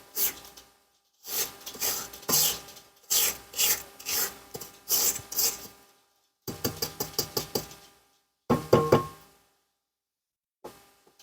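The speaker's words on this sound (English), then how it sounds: "let me scrape down the sides because everything just climbed up the side of the bowl" A spatula scrapes down the sides of a mixing bowl of cookie dough, giving repeated rough rubbing and scraping strokes in short bursts separated by pauses, close up with no talking.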